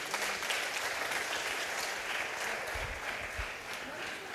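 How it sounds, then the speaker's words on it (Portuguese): Congregation applauding during an evening church service, a steady wash of many hands clapping throughout at moderate level, with brief low rumbles near the end. "Vamos aplaudir o nome do Senhor."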